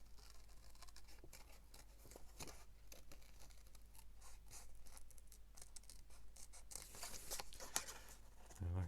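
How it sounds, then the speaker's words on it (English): Scissors cutting roughly around a paper bird, giving faint, close snips and rustling paper scrapes in quiet, uneven bursts. "Get a pair of scissors and just cut him roughly out."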